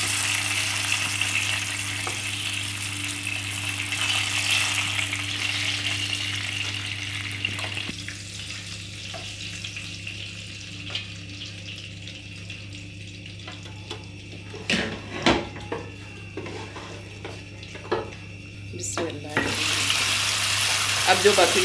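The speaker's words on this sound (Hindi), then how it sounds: "ये हल्की सी फ्राई करके ना हरी मिर्चें निकाल लें" Green chillies lightly frying in a pan give a steady, fairly loud sizzle. The sizzle thins after a few seconds, broken by sharp utensil clacks and scrapes, then swells again at the end.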